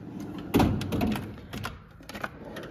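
A toolbox drawer packed with electrical supplies and odds and ends slides open with a sharp thunk, followed by softer rattling and clunks of its contents, close by.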